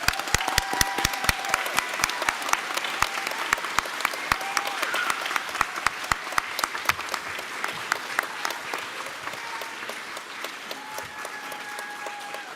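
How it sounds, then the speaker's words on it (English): Audience at a school board of education meeting gives students a sustained round of applause, dense steady clapping from a sizeable crowd in a hall, loud and continuous before gradually thinning toward the end. "I would respectfully ask the audience to give our students one more big round of applause"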